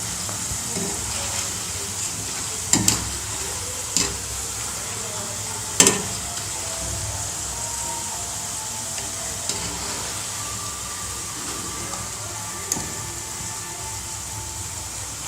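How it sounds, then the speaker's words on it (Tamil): Ragi pakoda fry in hot oil with a steady, even hiss, and a few clear knocks or clinks sound at scattered moments. The frying stays fairly constant at moderate loudness. "இந்த மாதிரி நல்லா வேக வச்சு 2 பக்கம் திருப்பி விட்டு நல்லா ப்ரௌனாக"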